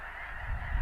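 Snow geese in a huge flock on a North Dakota hunt honk in a dense, continuous distant chorus, a rough wash of overlapping calls with low wind rumble underneath.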